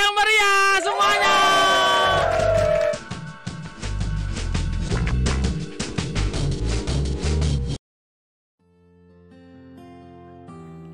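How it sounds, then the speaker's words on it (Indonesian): Loud crowd cheering and whoops from an audience in Yogyakarta fill the first seconds over music, easing into a musical passage that cuts out abruptly before soft tones return. "Tepuk tangan yang meriah semuanya!"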